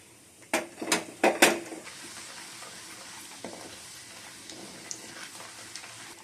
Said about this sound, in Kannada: ಎಣ್ಣೆ ಕಾದ ನಂತರ ಸಾಸಿವೆ ಕಡಲೆಬೇಳೆ ಉದ್ದಿನಬೇಳೆ ಜೀರಿಗೆ